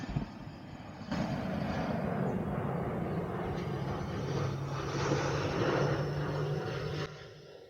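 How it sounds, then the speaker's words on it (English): An airplane flies overhead outdoors, its engine drone rising into a steady, fairly distant roar that holds for several seconds and then cuts away, with no talking. "Look, an airplane!"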